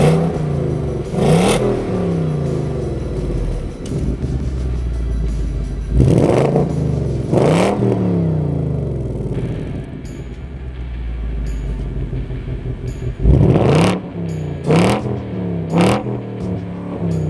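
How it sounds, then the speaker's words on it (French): A Ford Mustang GT's exhaust in track mode roars loudly and close, with several sharp revs rising and falling over a constant deep engine rumble. "on peut vraiment monter le son du système d'échappement"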